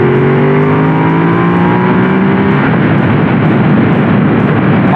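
Ducati Desert X motorcycle, model year 2022, accelerating hard on a test ride, a loud engine note rising through the revs then giving way to dense wind and road roar.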